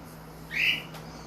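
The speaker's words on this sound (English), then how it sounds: "by the squawk of that bird, you all know I returned" A single sharp bird squawk rises briefly and stands out alone over a quiet background hum.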